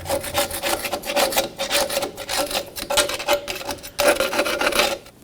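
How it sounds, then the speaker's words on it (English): Brisk back-and-forth scrubbing of a bristle brush over a 1997-2006 Jeep Wrangler rear brake backing plate, a close, rhythmic rasping with steady strokes throughout and no talking. "Use a bristle brush. Go ahead and clean everything up."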